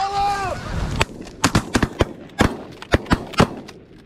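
A hunt with gunfire: after a brief voice at the start, about ten loud, sharp shots crack out in quick, irregular succession, some in close pairs.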